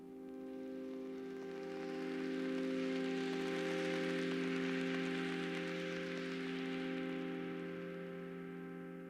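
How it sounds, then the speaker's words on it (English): Ableton Meld synthesizer playing a textured pad with a heavy rain effect, a sustained tonal chord under a dense hiss of rain-like noise that swells up and then fades back down. "I'll get a more heavy rain effect."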